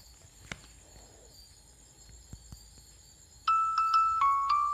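A phone notification chime sounds near the end of a quiet indoor moment: a short series of bright, close electronic tones rings out clearly with no talk over it.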